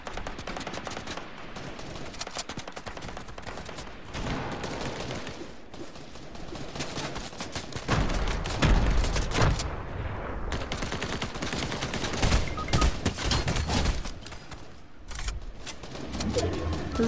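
Rapid bursts of gunfire from Fortnite play in repeated volleys, some dense and machine-gun-like, steady and moderately loud over a continuous game backdrop.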